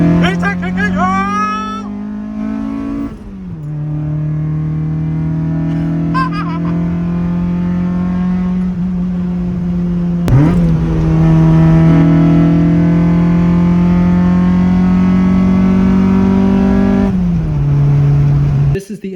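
Honda engine with VTEC revving up, a loud close engine whose pitch climbs, holds at a steady high drone and later drops back, sustained for most of the stretch.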